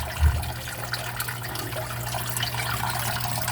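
An aquarium filter running in a fish tank holding goldfish and crayfish, giving a steady low gurgling rush of moving water, with a brief splash at the start, close and continuous.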